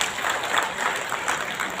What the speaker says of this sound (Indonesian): Saya minta tepuk tangan sekali lagi boleh untuk komunitas Pekalongan yang sudah hadir dengan drama yang sangat luar biasa